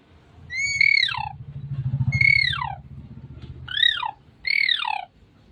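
A child imitates a myna bird, voicing four sharp, squawking whistled calls with falling tails in a steady rhythm, close and fairly loud over a low background rumble.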